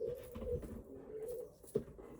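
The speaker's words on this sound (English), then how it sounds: "there's a bird right outside my window." A pigeon coos just outside a window, soft low repeated calls in a quiet room, with one brief sharper note near the end.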